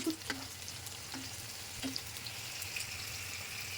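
Dried fish frying in a pan, a soft steady sizzle with a few faint taps and scrapes, close by and without talk.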